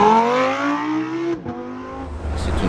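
A Lamborghini accelerates hard, its engine note climbing steadily in pitch, then dropping sharply at a gear change before building again, loud and close with no voices.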